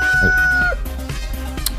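A chicken calls loudly nearby with a drawn-out crowing note, then gives a few short, clucking sounds.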